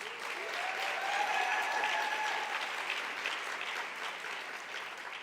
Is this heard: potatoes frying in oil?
no